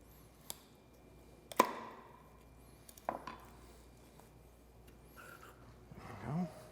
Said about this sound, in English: And then you're going to slice that out between that joint.